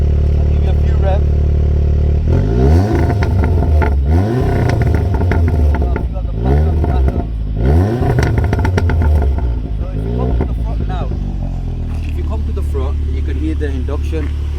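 Audi S3 engine revved in dynamic sport mode, several sharp rising blips, each settling back to a rumbling idle, loud and close, with a voice talking in between.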